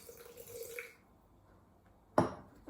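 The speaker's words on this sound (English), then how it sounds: "I'm just going to add a tiny bit of water." A small splash of water poured into a half-blended mint and coriander chutney: a short, close trickle that breaks a quiet stretch, with a faint drip earlier and no talking.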